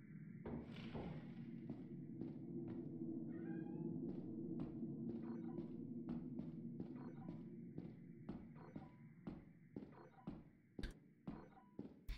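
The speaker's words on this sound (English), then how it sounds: "Meow for me, little dude." A cat meows repeatedly in a steady, close drawn-out call, joined by soft thumping steps that grow more distinct toward the end, in the video game Lethal Company (modded).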